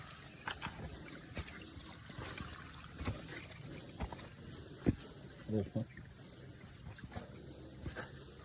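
Water trickles at a second station on a mountain hike to Dinagsaan Peak in Banaybanay, Davao Oriental, as a faint, steady outdoor dribble with scattered clicks and knocks while people talk nearby.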